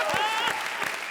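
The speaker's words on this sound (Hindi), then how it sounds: "जोरदार तालियां" Brief studio audience applause on a comedy show, a short burst of clapping with a voice carrying over it.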